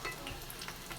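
Sliced onions for onion vada stir-frying in a pan, a soft continuous sizzle with light crackles, close and fairly quiet.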